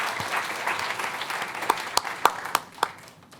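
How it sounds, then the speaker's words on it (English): Audience at a school board meeting breaks into applause, a dense wash of clapping with several sharper, louder claps standing out toward the end before it begins to fade. "Let's give him a round of applause."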